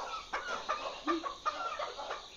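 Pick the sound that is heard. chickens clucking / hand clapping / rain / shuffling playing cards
chickens clucking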